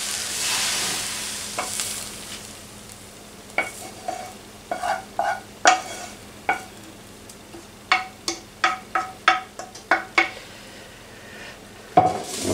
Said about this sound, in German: Und jetzt kommt der Inhalt der Pfanne noch dazu.